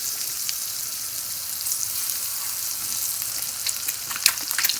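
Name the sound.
boiled eggs frying on a tawa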